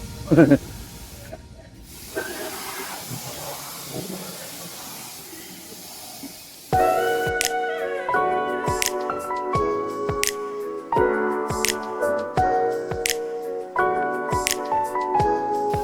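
Water spray rinsing a Mazda3 during a full auto detailing job gives a steady broadband hiss for about seven seconds, with a voice over it, before music takes over.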